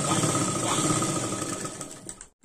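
A sewing machine runs steadily at close range, stitching a half-inch seam on an elbow puff sleeve with a continuous whirring drone and faint rattle, stopping abruptly at the end.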